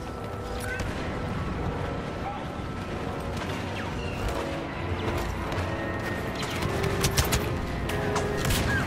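Rapid blaster pistol fire in a Star Wars Battlefront Walker Assault match, repeated shots crackling over a dense, continuous backdrop of battle noise, explosions and mechanical din, fairly loud throughout.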